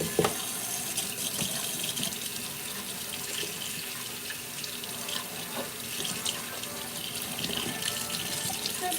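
Hands wash under a running kitchen tap, a steady hiss of water splashing into a sink with small irregular splashes throughout, with no talk.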